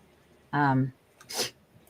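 A single close sneeze: a rising voiced intake followed by a sharp, breathy burst, then quiet.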